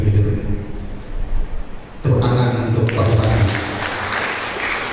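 Audience applause for the regent at an education festival for teacher training in Indragiri Hilir, a dense clapping wash swelling after two seconds alongside a low rumbling background and voices.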